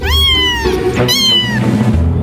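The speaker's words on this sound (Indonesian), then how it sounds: "Ternyata kucing punya kemampuan vokal super lengkap." A cat gives two loud, drawn-out meows in quick succession, close to the listener, the second call slightly higher and shorter, over a low background hum.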